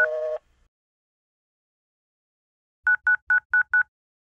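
A telephone dials a call: a short tone, a pause, then five quick, even keypad beeps in otherwise silent surroundings.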